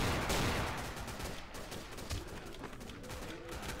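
Gunfire in a video game as shots are fired at a gate, a quiet, distant run of rattling shots and crackles over a busy background.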